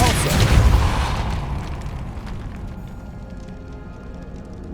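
In the video game Hogwarts Legacy, a Depulso spell is cast as a single booming, forceful blast, loud at first and then decaying into a lingering low rumble.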